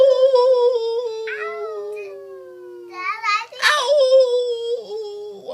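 Children howling in imitation of a wolf at the moon, long gliding wavering cries that overlap and fade, then a burst of shorter yipping howls and excited voices.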